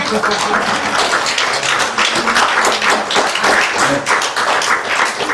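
A church congregation claps loudly and continuously after a sermon, a dense crackle of many hands with a rhythmic pulse running through it.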